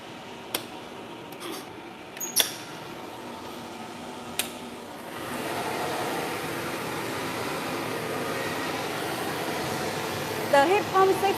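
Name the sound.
heat pump seafood dryer fan blowing hot air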